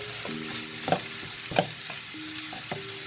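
Ground beef with thyme cooking in a pan, giving a soft continuous sizzle with a few light utensil taps and stirring scrapes, close by with no talk.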